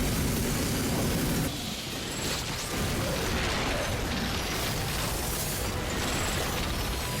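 Levisator flamethrower from Ratchet and Clank on PS4 firing a large flame: a continuous loud roaring, crackling blast with mechanical clatter, sustained for several seconds with brief dips.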